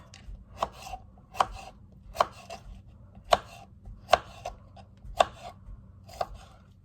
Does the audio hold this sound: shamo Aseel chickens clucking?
no